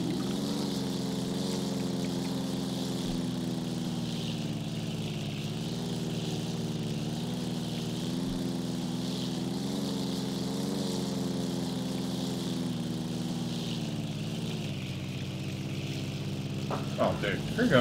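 Steady, droning propeller engine of a four-seater Cessna plane taxiing, a continuous hum with slow rises and falls in pitch, moderately near, while people talk over it.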